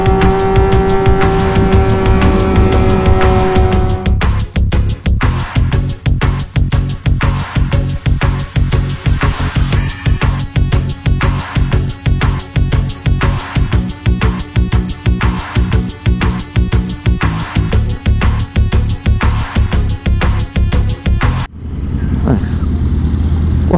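Honda FC9 motorcycle engine revving hard while a wheelie is attempted, a loud raw rising drone that breaks into a long run of rapid, evenly spaced bangs and pops, then cuts off abruptly into quieter idle.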